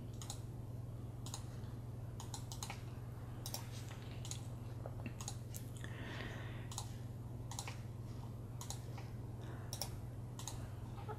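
Keys on an RGB mechanical keyboard click in irregular bursts of sharp taps with short pauses between, close and crisp over a low steady electrical hum, with no talking.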